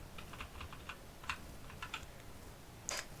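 Clicky keystrokes on a computer keyboard while writing Unity code, in irregular bursts of taps with a sharper, louder key strike near the end and no talking.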